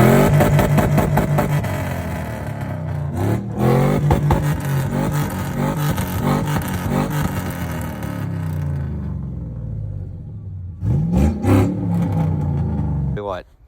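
A car engine with its catalytic converters deleted, running straight pipe into a 2.5-inch Dynamax race bullet exhaust, revs loudly in repeated bursts, with a few sharp blips near the end. Voices talk over it in places.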